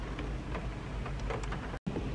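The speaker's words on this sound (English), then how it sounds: "I'm just gonna chill out and wait out the rain." Steady rain falls continuously during a cozy weekend at home, a dense, even hiss filling the background without pause or voices apart from one brief dropout near the end.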